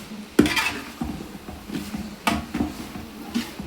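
Chicken for a Kerala-style curry is sautéed and stirred in a pan, with a spoon clanking against the metal in irregular knocks and scrapes at close range over a soft sizzle, no speech.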